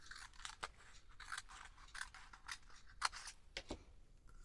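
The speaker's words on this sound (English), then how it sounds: "you want to cut just up those 2 squares like that." Scissors snip through glossy magazine pages in a quiet room, a series of short crisp cuts at an uneven pace, close and fairly soft.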